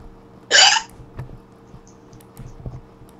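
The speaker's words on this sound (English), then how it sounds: "Oh, the hiccups." A single sharp hiccup rings out close and loud, with a squeaky, squeal-like quality, followed by quiet room noise and a few faint soft thumps.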